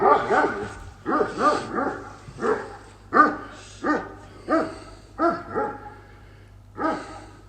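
A dog barks repeatedly, about a dozen sharp, fairly loud barks in an uneven rhythm over a low steady hum.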